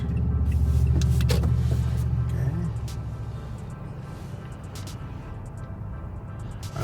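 A car pulls out to the left into traffic in Centereach, Long Island, New York: a steady close engine rumble and road noise that eases after a few seconds, under brief talk.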